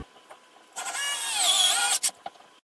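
A power drill running for about a second while mounting shelf brackets on a bedroom wall, a single high whirring burst rising and falling in pitch, preceded and followed by quiet room noise and small knocks.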